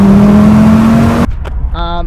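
An Audi RS3 with a 2.5-litre five-cylinder, 400 hp engine drones loudly at a steady rev, then cuts off abruptly, leaving quieter engine murmur and a brief tonal chime.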